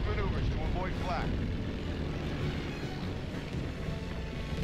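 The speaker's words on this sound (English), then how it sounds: "Am I actually flying a plane?" A World War II bomber in the Call of Duty WWII game flies in formation, its propeller engines making a loud, continuous drone that fills the whole stretch, with radio-style voices faintly beneath.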